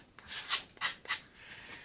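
Fine 320-grit sandpaper rubs across doped silk covering on an RC plane, making about four quick, raspy back-and-forth strokes followed by lighter, fainter rubbing, close and alone.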